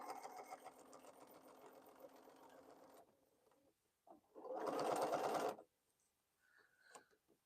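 Domestic sewing machine stitching through thick quilt seam intersections, a steady whirring run that stops, then a short louder burst of stitching, followed by faint handling sounds, close and clear.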